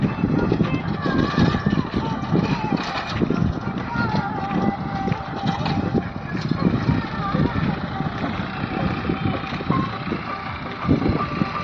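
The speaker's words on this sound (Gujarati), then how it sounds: "ટેપ બેપ ને બાક ધબધબાટી હાલે અહીંયા ટ્રેક્ટરમાં." A tractor engine chugs continuously while powering a rotavator in a field, a close, loud mechanical drone with rhythmic knocking, and someone speaks over the noise.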